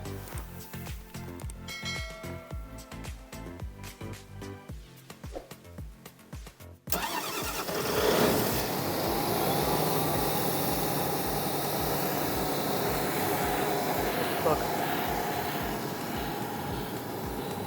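An Atlas Copco XAHS 237 DD diesel air compressor cranks briefly after a stretch of mechanical rattling, then catches and settles into a loud, steady, close running roar with broad airy noise.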